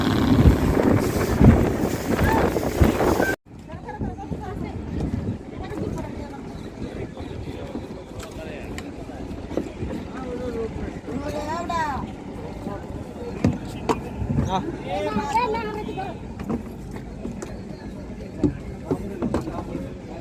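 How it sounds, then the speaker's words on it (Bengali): A passenger launch pulling away from a ghat on the Padma river, its low engine rumble and water wash heard under wind buffeting the microphone, with people talking nearby. "এই যে লঞ্চ ছাড়তেছে, মাত্র লঞ্চ ছাড়লো ঘাট থেকে"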